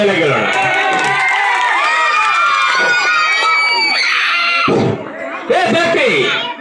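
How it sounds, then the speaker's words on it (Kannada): A large crowd of fans of the actor Darshan cheers and claps loudly at a public event, a dense, sustained roar of shouting voices that dips briefly before surging back. "ಜೋರ ಚಪ್ಪಾಳೆಯೊಂದಿಗೆ ಈಗ ಮುಂದಿನ ದರ್ಶನ್ ಅವರ ಅಭಿಮಾನಿಗಳಿಗೋಸ್ಕರ ಜೋರ ಚಪ್ಪಾಳೆಯಲ್ಲಿ ಒಂದು ಡೈಲಾಗ್ ಹೇಳೋಣ"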